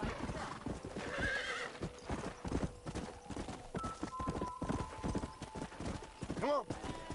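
Horses in the video game Red Dead Redemption clip-clop on hooves throughout, and one clear neigh comes near the end, with talk and background game sound running underneath.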